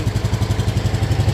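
A John Deere GX75 lawn tractor engine idles steadily after a choked start, a close, loud, even chugging pulse with no talk over it.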